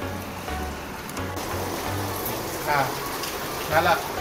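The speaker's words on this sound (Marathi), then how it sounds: "काय पाऊस पडतोय आता" Steady rain hisses in the background, with faint voices murmuring beneath it and a couple of brief sharper sounds toward the end.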